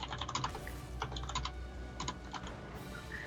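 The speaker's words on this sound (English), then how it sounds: "I keep typing things into free company chat." Rapid bursts of typing on a computer keyboard during a Final Fantasy XIV play session, clustered clacks in quick runs with short pauses, close and fairly loud with steady background hum.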